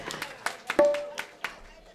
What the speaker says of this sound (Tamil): ஒரு கைதட்டு கொடுங்க, பலத்த கை.